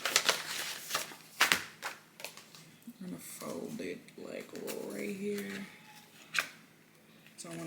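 Paper being folded by hand into a small pamphlet, with crisp crackles and creases, a couple of sharp snaps near the start, and a person talking through the middle.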